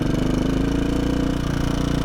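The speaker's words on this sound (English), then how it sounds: "I think my valve tick is getting worse" A KTM 450 dirt bike engine idles close up with a rapid, even mechanical ticking from worn valves or rockers. The rhythmic clatter is steady throughout and no one speaks.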